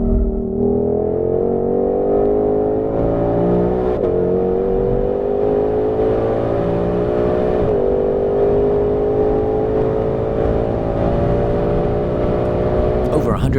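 A 2020 Ford Mustang Shelby GT500 accelerates hard on a race track at over 140 mph, its engine roaring loudly with rising pitch, briefly dipping at two gear shifts before climbing again, heard from close inside the car.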